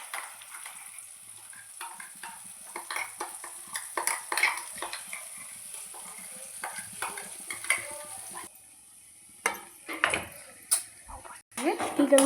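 Curry leaves and ground masala stirred in a pan, with repeated metal spoon scrapes and clinks over a low sizzle, a brief lull, then more clattering; speech is heard in the background.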